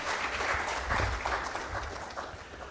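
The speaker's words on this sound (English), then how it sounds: "I think she deserves a loud round of applause in that." An audience at a water and environment conference in Uganda gives a round of applause, a moderately loud wash of clapping that holds fairly steady, then eases slightly toward the end.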